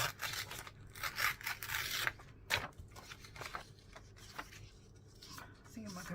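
Scissors snipping paper for a collage, a run of close crisp cuts in uneven bursts with paper rustling between them, fairly quiet.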